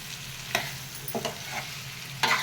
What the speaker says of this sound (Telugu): ఇప్పుడు మనం ఉడికించిన లివర్ వేసుకుందామండి. వేసాక ఒకసారి బాగా కలిసేటట్టు కలుపుదాం.